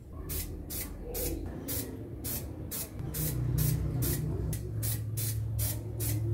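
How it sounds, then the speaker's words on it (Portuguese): A spray paint can coats a homemade motorcycle-helmet camera mount in a rapid series of short, evenly spaced hissing bursts, about a dozen in all, close by over a low background hum. "Importante também tirar a tampa antes de apertar o spray, senão não dá para se apertar o spray."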